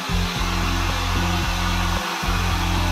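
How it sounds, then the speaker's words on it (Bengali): Hair dryer blowing on freshly shampooed hair: a loud, constant motor whine with a steady airflow hiss, briefly dipping twice as it is moved or switched, running alone without speech. "ড্রায়ার দিয়ে একটু চুলটা শুকোনোর চেষ্টা করছিলাম যাতে চুলটা একটু হালকা হয়"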